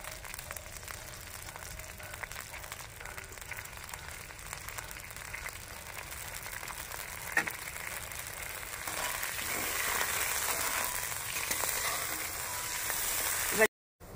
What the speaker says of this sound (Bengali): জলটা ফুটে উঠেছে